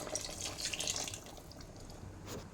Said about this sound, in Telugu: ఇప్పుడైతే కొంచెం వాటర్ అనేది వేసుకుంటున్నాం గైస్.